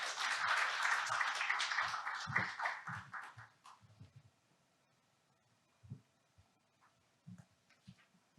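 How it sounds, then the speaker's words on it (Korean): Applause from a conference audience at a fintech event welcomes a speaker, a dense clapping wash lasting about three seconds and then fading into quiet room noise with scattered light taps. "그럼 박수로 맞이해 주시면 감사하겠습니다."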